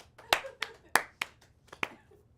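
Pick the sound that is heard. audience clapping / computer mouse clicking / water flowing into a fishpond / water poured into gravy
audience clapping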